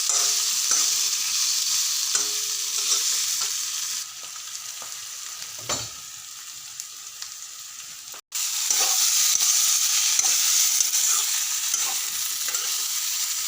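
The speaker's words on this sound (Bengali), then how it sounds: "এখন আমি এটাতে ডিমটা দিয়ে দিলাম যে একটু ভাজবো" Egg and potatoes fry together in a pan: a loud, steady sizzle with repeated stirring scrapes, a quieter stretch in the middle, a brief cut, then full sizzling again.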